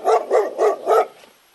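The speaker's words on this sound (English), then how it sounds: "D for dog." A dog barks four times in even succession, each bark clear and close, and a short quiet tail follows.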